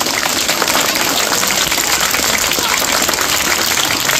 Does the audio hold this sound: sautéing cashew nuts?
no